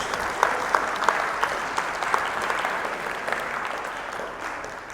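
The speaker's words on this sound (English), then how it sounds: "Give yourselves a round of applause." An audience at a talk in Perth claps together in a dense, even round of applause, with a few sharper individual claps standing out, then tapering slightly.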